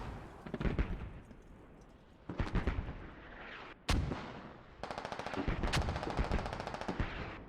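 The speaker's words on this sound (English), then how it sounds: "Mortars coming out both on the bodies and the hab." Mortar fire and explosions in the video game Squad, with repeated heavy booms and crackling bursts arriving in irregular clusters, some distant and rumbling, others sharp and close.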